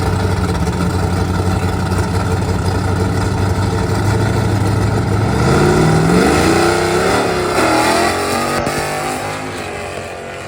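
A loud drag racing car engine at Carolina Dragway roars steadily nearby, its pitch climbing as it revs up before the rumble fades slightly toward the end.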